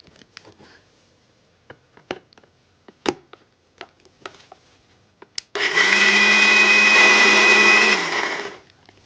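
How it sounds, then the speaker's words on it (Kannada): Mixer grinder blending sprouted green gram with ginger, green chilli and a little water: a few faint clicks and knocks, then a loud, steady whirring motor burst of about two and a half seconds that winds down abruptly. "ಇದು ಮಿಕ್ಸಿ ಮಾಡ್ತಾ ಇದ್ದೀನಿ."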